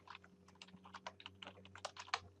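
Someone types a password on a computer keyboard, a quick, uneven run of soft close-up key taps over a faint steady hum, with no talk.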